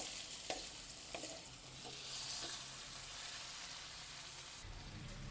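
Steady sizzling of food being sautéed in a pan to soften it for corned beef sinigang, with a few faint stirring scrapes and clicks, close and fairly quiet, no speech.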